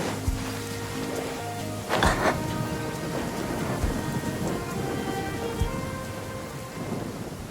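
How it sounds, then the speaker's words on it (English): Rain and thunder in the Genshin Impact video game: a steady hiss of rainfall on surfaces with a loud thunder crack near the two-second mark, continuing wash of rain afterward, no voices. "I like the rain."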